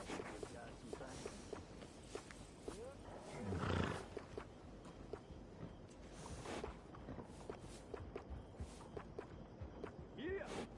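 Horse in Red Dead Redemption 2 whinnies once during grooming, a short swell over soft hoof shuffles and quiet outdoor ambience at low level.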